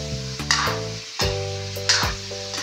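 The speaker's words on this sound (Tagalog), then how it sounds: "Next naman guys ay itong sitaw at okra. Yan, gisa-gisa lang yan." String beans and okra sautéing in a pan for a vegetable guisado, a soft sizzle under a sustained tonal hum, with a few distinct clanks from stirring and no speech.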